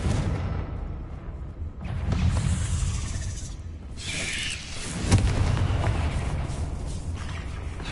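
Confringo spell explosions in Hogwarts Legacy, heavy booming blasts with rumbling tails, loud and close, a few distinct bursts that swell and fade over a dark echoing background.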